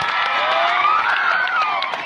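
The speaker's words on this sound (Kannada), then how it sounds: "ಹುಡುಗರಿಗೆ ನೀವೇ ಚಪ್ಪಾಳೆ ಹೊಡಿಬೇಕು" Audience applause and cheering for a group of boys, a dense, loud wash of clapping with scattered whoops from a crowd, sustained evenly through the moment.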